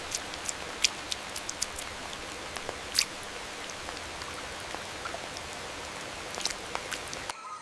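Soft, steady rain in a jungle, a continuous hiss with scattered crisp drips and taps landing nearby, fairly quiet and uninterrupted by voices.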